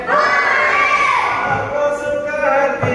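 Schoolchildren in a classroom shout loudly together during a sing-along action song, a dense, continuous chorus of young voices close by.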